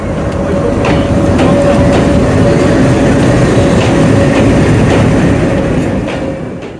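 The Sagardari Express pulls out of Jessore Junction on a rainy afternoon, with a loud steady rumble, rhythmic clickety-clack of wheels on rail joints and a faint sustained squeal, heard close from on board.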